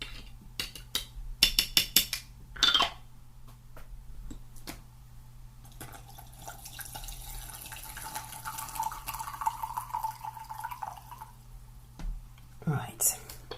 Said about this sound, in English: I'm also going to pour some tea because I think it's time.